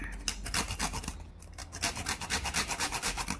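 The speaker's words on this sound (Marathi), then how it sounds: "हे जायफळ आहे, हे थोडंसं असं किसून घालते." Whole nutmeg grated by hand for sweet puran filling, giving a close, steady run of quick dry rasping strokes with a brief pause partway through.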